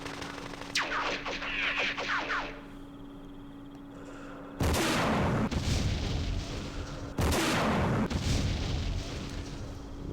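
Heavy machine guns fire in the Vietnam war game Campaign Series Vietnam, long dense bursts arriving in two loud sustained blocks after quieter scattered crackling, close and harsh.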